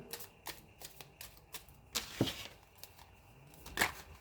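Soft, irregular papery flicks and riffles of shuffling cards, a few sharper bursts among quieter shuffling, close by and fairly faint with no talking.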